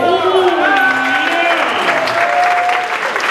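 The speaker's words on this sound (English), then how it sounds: "When she puts her hands in the air, let's hear it for Ashley. A big round of applause" Cabaret show audience applauding and cheering for a performer named Ashley, a dense, loud wash of clapping throughout with someone talking over it.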